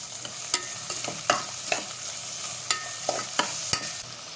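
Chicken fried in a pan with a bay leaf, salt, ginger and garlic, a steady close sizzle broken by sharp scraping stirs from a spoon at irregular intervals, with no voices.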